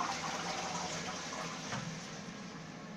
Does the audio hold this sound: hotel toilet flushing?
yes